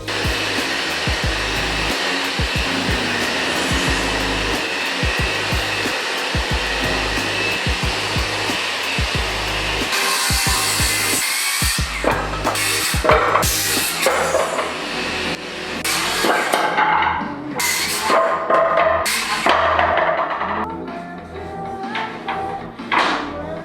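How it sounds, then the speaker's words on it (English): A Festool track saw rips through a wooden board for a DIY countertop, its loud motor whine rising sharply around the middle and cutting in and out in bursts, over steady shop noise, with no talking. "We're gonna throw our track saw on here."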